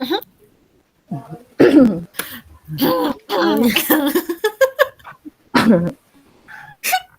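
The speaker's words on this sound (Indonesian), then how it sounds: "Mendadak jadi batuk yang semuanya." Repeated harsh coughing fits close to the microphone, with throat clearing and a few spoken words between bursts.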